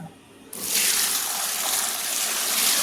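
Water pours and splashes steadily as leafy patri vegetables are washed in salted water in a large bucket, starting abruptly after a quiet half second and staying loud and continuous.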